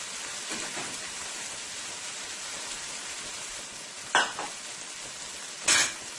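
Shrimp frying in a pan for stew baigan, a faint, even sizzle with a light crackle, broken by two sharp clatters of a utensil near the end.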